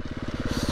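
A 2018 KTM XC350 dirt bike engine runs nearby with a quick, even pulsing thump, heard in a brief burst.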